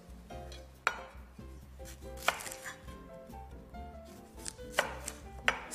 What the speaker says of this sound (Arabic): هلا بدنا نبلش نقطع البصل.